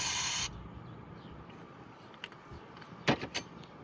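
Electrical contact cleaner is sprayed onto a Yamaha R6 motorcycle brake caliper in one brief, sharp hiss, followed by quiet with a few faint clicks and knocks.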